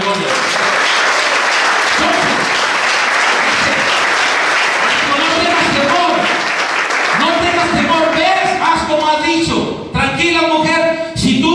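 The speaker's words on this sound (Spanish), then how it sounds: "Y un aplauso a Cristo de la gloria." A church congregation in La Laguna, El Salvador claps loudly and steadily for a long stretch, with voices talking over the applause as it thins toward the end.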